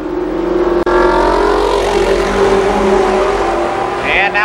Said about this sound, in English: Mike Brown continues to move on the outside